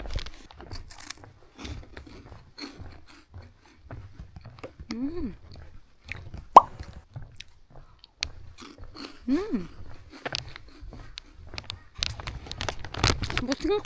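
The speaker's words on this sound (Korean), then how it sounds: "저희 첫메롱킥을 먹어보겠습니다" Crunchy melon-flavored snack being bitten and chewed close up during a winter hike on Hallasan, with intermittent crisp crunches, scattered clicks and brief voice sounds.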